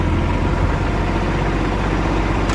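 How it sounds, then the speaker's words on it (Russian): Kubota GL29 Japanese four-cylinder mini tractor engine idling smoothly and quietly, a steady low diesel rumble running without a break throughout. "Видим, трактор работает, ну, очень мягко, очень тихонько."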